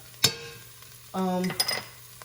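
Flour is stirred into beef stew in a hot pot, with a soft scrape followed by a short burst of sizzling and light clinks, quiet and close, and no talk.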